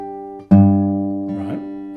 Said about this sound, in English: if I accent the thumb when plucking this, then I'm going to want to pluck quite loudly with the thumb and soft with the other fingers